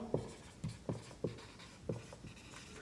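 Chalk or marker strokes on a classroom board during a maths lesson, about six short scratchy taps at an uneven rhythm, faint and close, with no speech over them.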